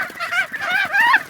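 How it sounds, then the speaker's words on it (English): Goose honking in a short burst of several nasal, rising calls close up, loud and alone with no other sounds. "goose"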